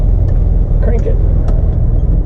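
A classic Austin Mini's engine runs close and loud in a short burst, a low, throbbing idle with a steady pulsing rhythm.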